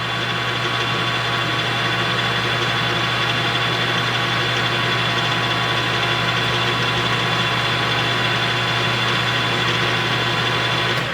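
An engine drives a transmission with gears turning in oil, giving a loud, steady, constant drone with a low hum and a high whine that stays level throughout, with no clear rise in revs.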